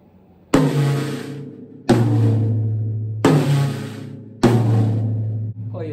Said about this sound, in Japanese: こういうちょっとメロディックな音が出ますね。 このちっちゃい方がハイタム、この少し大きい方ロータムと言ったりもします。